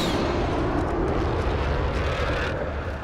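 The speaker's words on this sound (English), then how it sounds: "Should we take the heli and go again? Yeah, take the heli and go." A helicopter in a video game roars as a dense, steady rotor-and-engine rumble that fills the whole short stretch, loud and close, with no clear speech over it.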